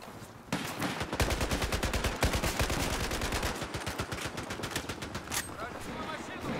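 Rapid bursts of heavy gunfire and artillery fire in a video game, a dense continuous barrage of loud close shots with machine-gun-like rhythm, while players shout faintly underneath.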